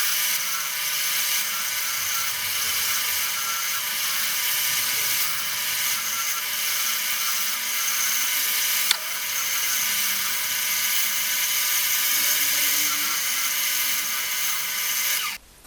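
A wood lathe spins steadily while a small skew chisel cuts a honey pot shape, giving a continuous high whirring hum with scraping tool contact throughout and a brief click near the end.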